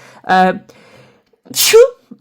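Two sneezes, the first a short voiced burst and the second a sharper, breathier one with a rising squeak, close to the listener with no talk.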